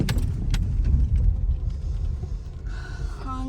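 A car rolls over a rough, unpaved rural track beside a contractor's roadworks, with a steady low rumble and jolts, plus a few rattling clinks from loose items inside.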